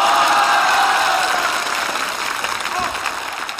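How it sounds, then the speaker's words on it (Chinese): Thunderous applause from a live audience at a Chinese comedy sketch: loud, dense clapping that starts at full strength and slowly thins and fades over a few seconds. "此处有雷鸣般的掌声。"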